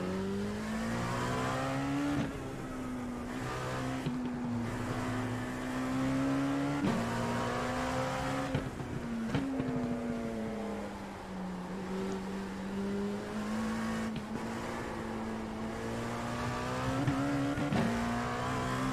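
LMP2 prototype race car engine at the Nürburgring GP circuit in iRacing, a loud, steady high-revving drone that climbs through the gears with repeated sharp shifts and brief lifts over the whole stretch.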